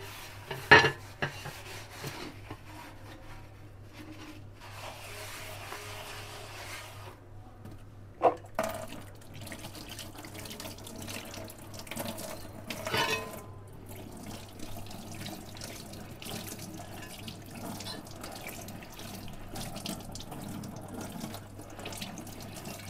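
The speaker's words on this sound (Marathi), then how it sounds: "लिक्विड घेऊन पुन्हा एकदा त्याला हलक्या हाताने घासून घेणार आहे।" Water runs steadily from a tap while a new cast iron tawa is gently scrubbed with washing liquid, with soft rubbing and occasional metallic knocks and clinks against the sink.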